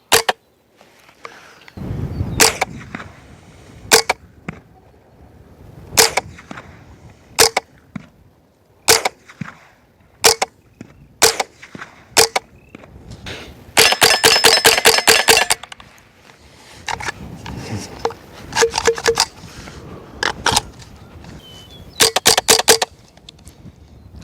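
Suppressed rifle fire through a Resilient Suppressors Jessie's Girl can, alternating supersonic and subsonic rounds: about twenty sharp, loud, close reports, mostly spaced a second or two apart, with a quick rapid cluster in the middle.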